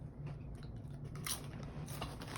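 Obnoxiously loud chewing of food from a bag at a networking event: close, wet crunching and biting noises repeat unevenly throughout, with no talk.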